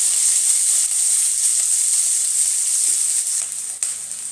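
Chopped onion frying in a pan for a Bengali prawn curry, a loud, close, steady hissing sizzle with a few soft stirring knocks near the end, no talking.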